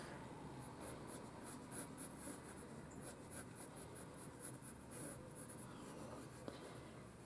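A pencil glides across paper while sketching a drawing manikin, a soft, steady scratchy rasp of a light line continuing for several seconds, close up and quiet.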